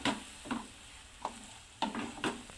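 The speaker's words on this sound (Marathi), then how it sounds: "पूर्ण हे मसाला लागेपर्यंत छान असं ह्याला पण परतून घ्यायचं." Vada pav potato filling being sautéed with masala in a pan, several distinct scraping stirs of a spatula at irregular intervals over a faint background sizzle.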